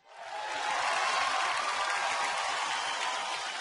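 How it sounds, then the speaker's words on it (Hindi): A large audience applauds at the Reno Star Guild Awards ceremony, a dense, sustained roar of clapping that swells quickly and holds steady throughout. "जोरदार तालियां फॉर स्टार गिल्ड अवार्ड"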